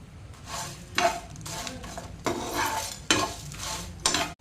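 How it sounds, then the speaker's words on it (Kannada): Fenugreek, cumin and coriander seeds dry roast in a pan, stirred in several scraping strokes that rise and fall in bursts over a soft rattle. "ಇದನ್ನು ನಾನು ಡ್ರೈ ಆಗಿ ಫ್ರೈ ಮಾಡ್ತೇನೆ."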